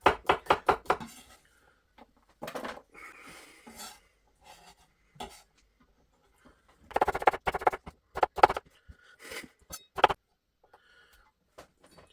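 A knife peeling and slicing a vegetable, heard as quick clusters of crisp cutting taps at the start and again later, separated by quieter scraping and pauses.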